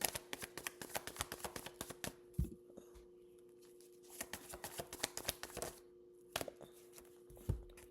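A tarot card deck is shuffled close by, with rapid riffling flutters and soft slaps of the cards that come in bursts, broken by short pauses and a few sharper taps.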